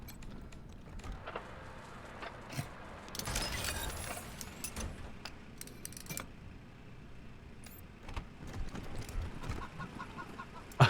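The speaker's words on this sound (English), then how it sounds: "Another cyborg chicken." Faint clucking of a cyborg chicken in Wasteland 3, scattered soft bird calls over quiet game ambience with a few clicks and rattles, including a louder burst midway and a sharp sound at the end.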